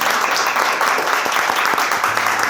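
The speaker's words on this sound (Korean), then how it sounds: "큰 박수로 맞이해주세요." Dense, continuous applause from an audience at an investment-competition awards ceremony as a trainee steps forward to receive a prize, with steady clapping throughout and faint voices underneath.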